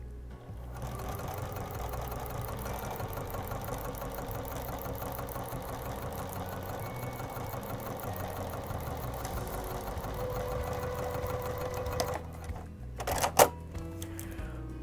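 A sewing machine stitches clear vinyl for a stadium bag, with a piece of tape stuck to the underside of the presser foot. It runs in a steady, fast, continuous rattle for about twelve seconds, then stops, and a few brief clicks follow.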